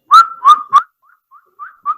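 A person whistles a short tune: three bright, loud notes followed by several softer, fainter ones, clear and alone.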